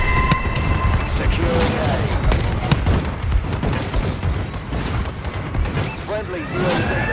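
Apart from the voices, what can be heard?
bombing run explosions in Call of Duty: Advanced Warfare video game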